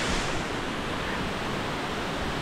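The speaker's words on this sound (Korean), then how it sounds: "복래폭포 왔습니다." A waterfall on Ulleungdo island pours in a loud, steady, close-up roar of rushing water, a dense and unbroken hiss with no talking.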